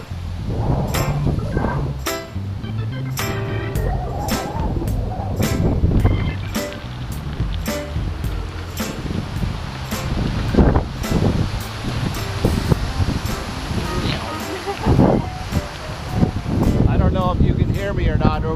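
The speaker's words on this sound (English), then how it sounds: "hear me or not over this wind, but it's about 25 mile per hour wind speed" Strong coastal wind of about 25 mph blows along a waterway trail near the Gulf of Mexico in Venice, Florida. It roars and buffets the microphone continuously, with rustling gusts and a faint voice partly buried beneath it.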